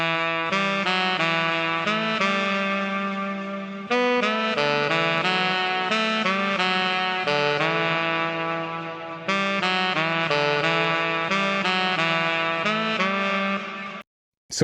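The DVS Saxophone VST plugin with added effects plays a flowing melodic phrase of reedy sustained notes with a wetter, fuller tone, steady and continuous before stopping abruptly near the end.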